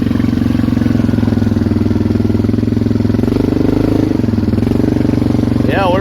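A Polaris Magnum 425 ATV engine runs hard and loud as the quad sits stuck on a dirt trail in two-wheel drive, a steady throbbing drone with slight pitch shifts, and someone talks briefly near the end.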